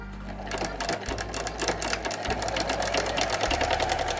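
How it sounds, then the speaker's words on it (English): A sewing machine straight-stitches a hem on a pocket of homemade clothing, a close, steady buzzing whir with rapid needle ticks running throughout. "Changing the machine back to straight stitch and make the hem from the pocket."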